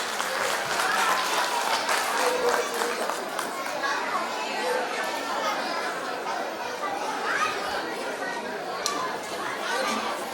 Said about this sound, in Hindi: इन सभी बच्चों का तालियों के साथ स्वागत कीजिए।